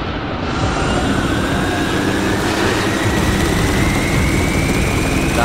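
Helicopter flying in the war shooter game Spec Ops: The Line, a loud, steady rotor roar with a rising whine, continuous and close throughout, with no voices.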